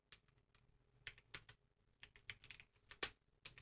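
Quick bursts of keystrokes on a computer keyboard while entering Flutter code, uneven clusters of clicks with short pauses and one sharper key strike near the end, fairly close and alone.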